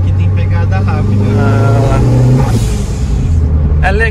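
A turbocharged Chevrolet Corsa accelerates on a highway, its engine rumbling and rising loudly in pitch, with someone talking over it close by.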